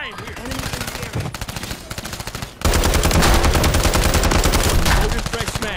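Rapid automatic gunfire in the shooter Call of Duty MW3, loud and close, in dense rattling bursts that build into a sustained hammering stream of shots after a brief pause.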